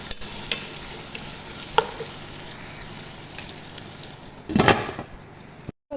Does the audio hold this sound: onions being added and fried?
yes